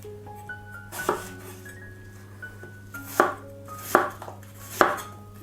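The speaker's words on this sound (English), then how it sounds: "take your apples and remove the core and cut them into small pieces" A knife chops cored apples into small pieces on a board, giving about five crisp separate knocks at an uneven pace, close and fairly quiet, with a steady low hum underneath.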